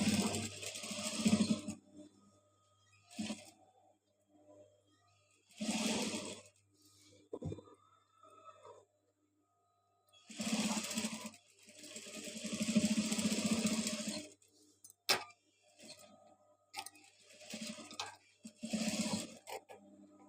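A sewing machine stitches along the neck edge of a garment in several separate runs, each a buzzy mechanical whir lasting one to three seconds, with short quiet pauses and a few clicks between them.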